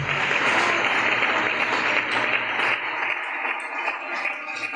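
A church congregation claps loudly and steadily for the Lord during a Spanish-language service, a thick wash of many hands that holds for several seconds and then thins slightly.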